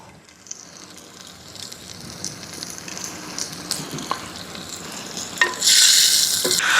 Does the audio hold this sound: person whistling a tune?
no